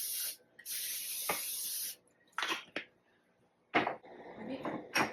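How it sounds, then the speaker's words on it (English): Olive oil sprayed from a spray can in a small kitchen, several short hissing bursts of varying length separated by pauses, close and crisp, with faint handling noises between sprays. "I'm going to spray it with some olive oil"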